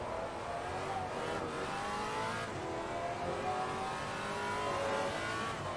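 A Maserati MC GT4 race car in the Assetto Corsa Competizione racing game revs and accelerates through the gears, a dense, steady engine roar with rising pitch sweeps and brief dips at shifts, fairly loud throughout.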